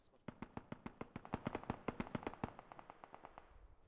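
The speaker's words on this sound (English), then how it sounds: "there's like lots of gunfire" Gunfire in PUBG on Xbox One, a rapid string of about twenty sharp shots in a steady burst rhythm, moderately distant and fairly faint.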